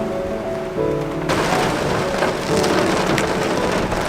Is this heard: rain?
yes